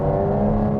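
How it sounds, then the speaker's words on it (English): An Aston Martin GT12 V12 engine in sport mode gives a brief, loud, smooth drone with strong steady low harmonics, heard close for under a second. "immediately you hear that lovely V12 noise, and it is intoxicating."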